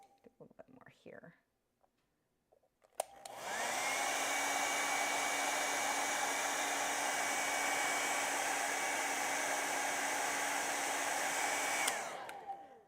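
A hair dryer blows on a watercolor painting of a hummingbird. It switches on after a brief murmur of talk and a pause, runs as a steady close whoosh with a whine for about nine seconds, then cuts off.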